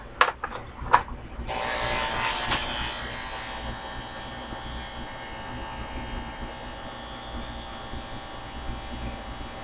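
Electric hair clippers cutting a kid's hair: a few sharp clicks, then a steady, close, even buzz that runs unbroken to the end.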